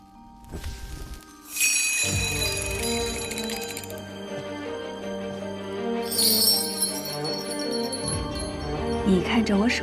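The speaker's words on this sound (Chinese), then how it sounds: "你看着我手中的铃铛，每听到一声响，心中便默念一个空字。" A small handheld bell rings in a period drama scene: two bright, shimmering strikes a few seconds apart that ring on over a sustained musical backdrop.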